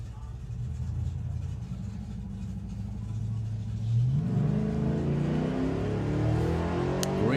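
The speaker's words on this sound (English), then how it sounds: "Green light drag race." Championship drag racing cars at Santa Pod Raceway's Festival of Power leave the line with a loud, deep engine roar that swells and rises sharply in pitch midway, over a constant rumbling track ambience.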